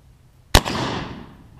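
A single sharp, loud shot from a CVA cap and ball black powder rifle, followed by a rumbling decay that fades over about a second outdoors.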